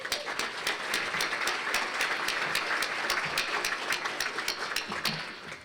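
A seated audience at a city State of the City event applauds council member Connor Trout, giving steady, dense clapping that holds evenly for several seconds at moderate distance.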